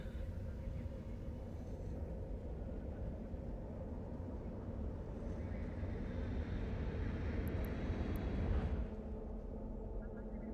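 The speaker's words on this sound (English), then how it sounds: "Warp drive active." Warp drive of a ship in the video game EVE Online: a steady, loud low rumbling drone with a faint airy hiss above, holding even for about nine seconds before easing slightly at the end.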